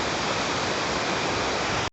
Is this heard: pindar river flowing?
yes